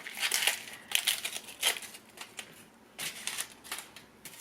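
A white onion being peeled by hand, its papery skin giving off bursts of dry crackling and crinkling in short irregular clusters, close and fairly quiet with no talk.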